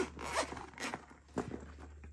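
A zipper on a Geekshare x Sanrio Kuromi Nintendo Switch case with skull-shaped pulls, heard as a few quick, close zipping strokes with brief pauses between them and no talking.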